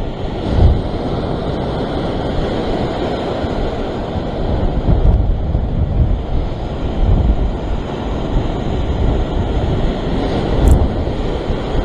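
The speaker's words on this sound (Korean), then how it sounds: "파도가 또 점점점 커지는 거예요" Ocean waves roll and crash continuously, a dense broadband roar with periodic surges, mixed with gusty wind buffeting the microphone.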